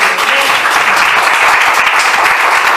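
A church congregation gives loud, dense applause during a Tuesday evening service, a continuous roar of many hands clapping close by and filling the space evenly throughout.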